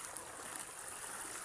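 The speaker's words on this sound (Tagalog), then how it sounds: "Ay, ilog na naman." A river flows in a steady, soft, continuous rush, fairly faint and unbroken, with no voices over it.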